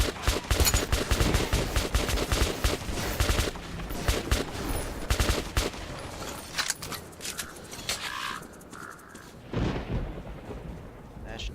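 A weapon fires in short, rapid bursts of loud, sharp shots in the video game Metro 2033 Redux, with heavy rumbling echoes and a quieter stretch near the end.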